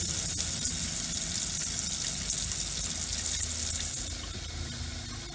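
Water runs steadily from an RV sink faucet as the lines are cleared for winterizing a Grand Design RV, a continuous hiss that eases slightly in level near the end, with no talk.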